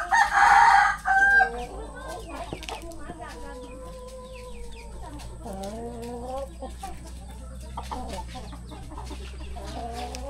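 Chickens cluck and a rooster crows on a farm, with a loud close crow bursting out at the start, then softer overlapping clucks and calls continuing for about ten seconds.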